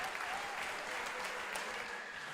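A church congregation claps for God during a service, a continuous, fairly faint and distant wash of applause with no speech over it.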